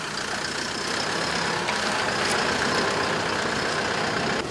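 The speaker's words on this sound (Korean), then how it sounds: "푸드트럭 한 대가 공장으로 들어섭니다." A food truck engine rumbles steadily nearby as it pulls into a factory, a loud continuous idling drone with no voices.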